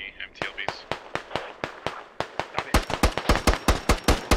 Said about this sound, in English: Joe and Phoenix putting some rounds into town here.